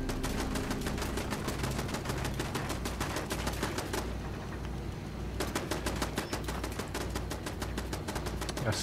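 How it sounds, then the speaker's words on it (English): Rapid gunfire in the online game Fallout 76 rattles in fast, steady bursts, close and loud, with a brief lull midway before the shooting resumes. "I heard a gun shoot."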